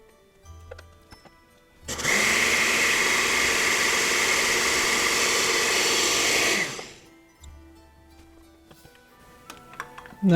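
A blender whirs steadily through a batch of no-sugar-added rice pudding, starting abruptly and running loud and even for about five seconds before cutting off, with quiet kitchen clatter before and after.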